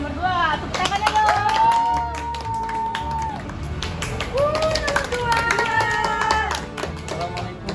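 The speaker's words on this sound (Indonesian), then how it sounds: "Tepuk tangannya dong." Audience clapping at a mock neighborhood chief election in Bekasi, scattered, uneven handclaps and taps mixed with shouting and cheering voices and chatter throughout.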